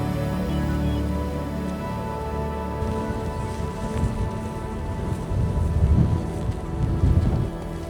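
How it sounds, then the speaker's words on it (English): Rain pouring over desert sand dunes, a dense steady hiss of falling water with low rumbling underneath, swelling slightly near the end. "it started raining"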